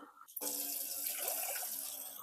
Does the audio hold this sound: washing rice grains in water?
yes